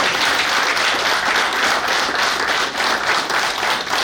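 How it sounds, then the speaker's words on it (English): Sustained, dense applause from an audience at a Nigerian naval war college graduation ceremony fills the room evenly from start to finish. "Please, may we give him another round of applause."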